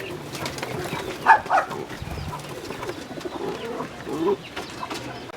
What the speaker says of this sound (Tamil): இங்கே இருக்கிற புறா வந்து பார்த்திங்கன்னா கண்டிப்பாக யாருமே பார்த்துருக்க மாட்டாங்க